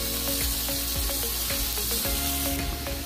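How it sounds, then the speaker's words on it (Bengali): A cup of chopped onions fries in two tablespoons of hot oil for a loitta fish dopeyaja, with a loud, dense sizzle and repeated clinks and scrapes of a utensil against the pan, no talk. "তেলটা গরম হয়ে এলে দিয়ে দেব 1 কাপ পেঁয়াজ কুচি। এবার আমি পেঁয়াজটা একটু ভালো করে ভেজে নেব"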